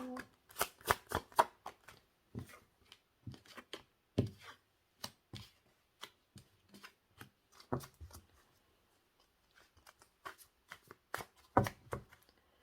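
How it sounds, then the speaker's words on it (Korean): Tarot cards are shuffled by hand in quick, crisp flutters and taps that come in bursts, close and fairly quiet, with short pauses between runs. "추가 카드 잠시 뽑을게요"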